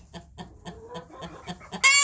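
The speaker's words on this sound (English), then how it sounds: "it looks like the chickens are going to leave them alone" Chickens clucking near ducks, a series of short rhythmic clucks in close succession, fairly close, ending in a louder burst of squawking.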